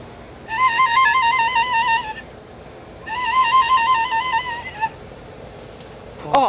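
A hand-blown mating call imitating a yellow-bellied snipe, out in open country: two warbling, wavering whistle phrases, each about two seconds long, separated by a short pause and sounding fairly close.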